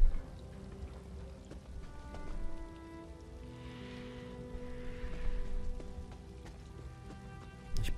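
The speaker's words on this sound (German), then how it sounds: "Es regnet zumindest schon mal" Steady rain patters in the game world of Elder Scrolls Online, a soft continuous wash of drops on surfaces that stays fairly quiet under a low, sustained ambient game soundscape.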